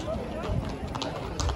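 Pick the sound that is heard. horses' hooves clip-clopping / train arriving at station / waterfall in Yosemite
horses' hooves clip-clopping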